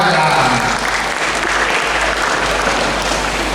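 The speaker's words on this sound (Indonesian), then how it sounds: "Tepuk tangan buat anak muda ya." Audience applause for young people at an Indonesian public gathering on trade and cooperatives, loud continuous clapping from a large room with a low hum beneath.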